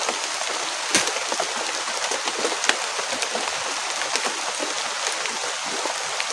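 Steady rain falls in a broad, dense hiss with scattered louder drops spattering on a surface, continuous throughout and without talk.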